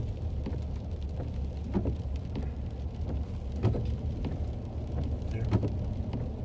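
Steady rain falls on a soggy day at the Brimfield outdoor antique market, a dense, continuous patter with scattered heavier drops and a low background rumble.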